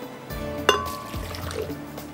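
Water is poured into a blender holding tomatoes, a soft, steady trickle with a brief splash near the start, close by and fairly quiet.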